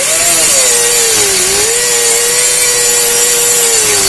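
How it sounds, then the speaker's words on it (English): A 40 grit flap wheel on a power grinder blends a surface, giving a loud, continuous abrasive whine with a steady pitch that dips briefly and then holds, close and alone for the whole stretch. "the first finishing tool is gonna be just a 40 grit flapper wheel here"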